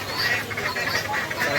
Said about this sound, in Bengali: আরও আছে রাজহাঁস